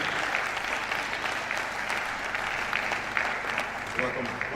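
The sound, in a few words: audience applause at a university ceremony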